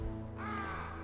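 Crows cawing in Metal Gear Solid on Shadow Moses, a harsh, close caw rising over a low droning game soundscape, no speech.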